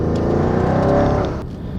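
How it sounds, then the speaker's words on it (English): Audi RS7 engine revving hard with the exhaust popping, a loud, close roar that swells and then drops off as the throttle lifts. "Just listen to the sound of the pure horsepower. Them horses are running. That exhaust is popping."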